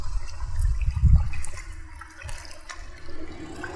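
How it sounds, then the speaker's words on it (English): Hands dipping into river water, a close, low sloshing and swirling that swells briefly near the middle, then settles into a softer trickle and gentle lapping. "I want Vince and I to just put our hands in the water here for a moment"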